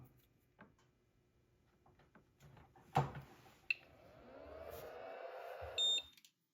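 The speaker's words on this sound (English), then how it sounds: "we get illumination on the screen and a beep" A G.T. Power TD610 Pro touchscreen balance charger powering up gives a short, faint electronic beep near the end, after quiet handling clicks and knocks.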